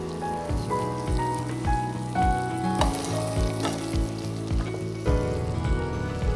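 Garlic sizzling in butter in a pan, a steady crackling fry up close with occasional utensil clicks, under quiet music with no voices.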